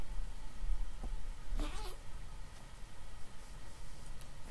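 Cats fighting, with a short, strained yowling meow rising out of a constant noisy background, a brief cry near the middle, somewhat distant and not very loud.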